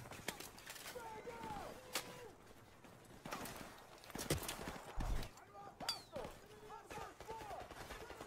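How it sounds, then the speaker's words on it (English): Gunfire in Call of Duty Modern Warfare Remastered sounds as scattered sharp shots and short bursts, some distant and some closer, mixed with game ambience and a talking voice. "Who in the hell is shooting at me?"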